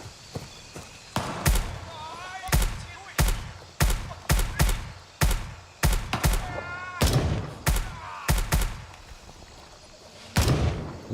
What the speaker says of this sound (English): I'm hearing disparate gunshots